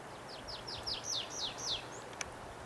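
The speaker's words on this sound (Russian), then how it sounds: "Зяблик, что ли, самка." A female chaffinch calls in a pine forest: a quick series of about seven short, sharp, downward-sweeping chirps, fairly close, over quiet woodland background.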